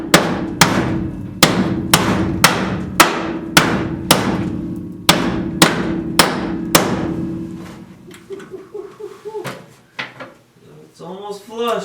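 Steady hammer blows on the suspension of a 1967 Ford Fairlane, about a dozen sharp metallic strikes at a regular rhythm, close and loud, followed by a few clanks and a brief voice.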